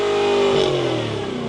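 A 2008 Volvo XC90 V8 Sport with an aftermarket exhaust revs hard, a loud, close engine note that climbs quickly then drops back down within a second and a half.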